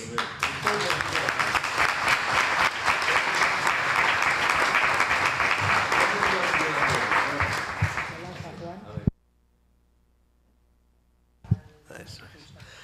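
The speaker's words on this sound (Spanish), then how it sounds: "Vamos a dar un aplauso." A conference audience applauds in a hall, sustained dense clapping for about eight seconds that stops abruptly into near silence, followed by a brief thump and faint sound near the end.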